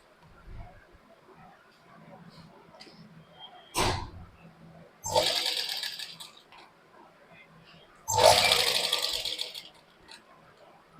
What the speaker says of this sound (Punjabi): ਆਪਾਂ ਇੱਕ ਸਲਾਈ ਇਧਰਲੀ ਸਾਈਡ ਤੇ ਲਗਾ ਲਾਂਗੇ